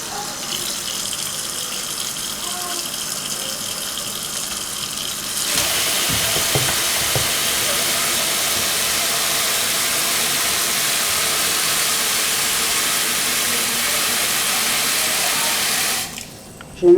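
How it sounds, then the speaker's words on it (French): Water gushes steadily from a tap into a cooking pot holding browned beef, a constant rushing stream that gets louder partway through and then stops abruptly near the end. "Donc là je vais rajouter de l'eau."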